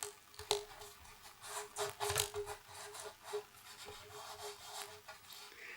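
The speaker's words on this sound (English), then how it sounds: "And then we'll just cut through that masking tape." A blade slices through masking tape on a Mak180P telescope, making faint, close scraping and rubbing strokes in an irregular sequence with a few sharper catches.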